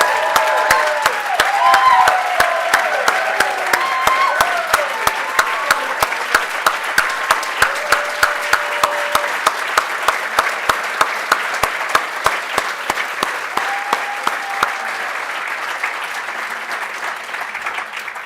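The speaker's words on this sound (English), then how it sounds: "I want to ask for a big round of applause for LaToya for the fantastic job" An audience at a gala applauds LaToya in a long, loud burst of clapping with some crowd noise and cheering early on. The applause thins toward the end until single sharp claps stand out.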